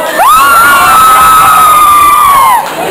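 A crowd at a convention voice-actor panel lets out a loud, sustained shout and cheer lasting a couple of seconds, very close and full, fading at the end.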